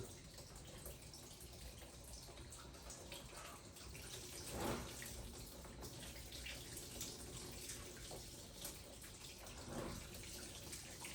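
Coolant pours out of the radiator of a 1984 Corvette C4 with a 350 engine, a steady, faint splashing gush of liquid with a couple of brief louder surges, no voices over it.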